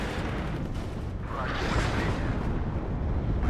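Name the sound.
rocket artillery explosions in WARNO video game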